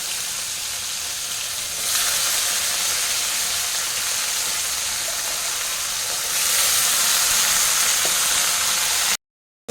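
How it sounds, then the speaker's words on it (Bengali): Continuous loud sizzling of figs frying in a pan, the hiss swelling louder twice, with no talking. "এদিকে ডিমুরটা ভেজে নিচ্ছি ডিমুর ভাজা হবে"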